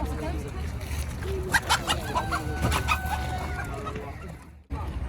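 Roosters and chickens at a bird market in Najran, Saudi Arabia, clucking and giving a crow-like call amid steady market bustle and a low background hum, with people talking nearby.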